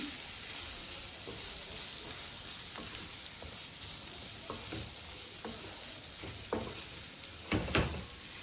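Plantain pieces coated in turmeric and ginger-garlic paste fry in a pan, giving a steady sizzle with periodic scraping stirs that grow louder toward the end, with no voices.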